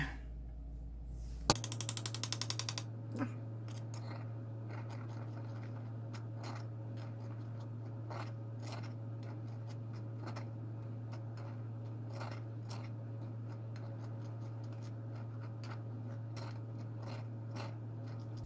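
An electric grinder runs on barley grains with a steady low hum and an irregular clicking, rattling patter throughout, starting with a brief loud burst as it switches on.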